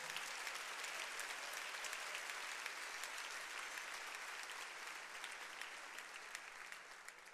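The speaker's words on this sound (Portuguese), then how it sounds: "Você pode aplaudir o Senhor?" Church congregation applauding the Lord during an evening worship service: sustained, thick clapping from many hands that holds steady for several seconds, then eases slightly toward the end.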